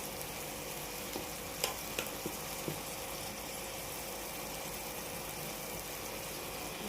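Spices (salt, turmeric, chili powder and cumin powder) frying in oil for a fish curry, a faint steady sizzle with a few soft clicks of stirring and a constant low hum, no talk.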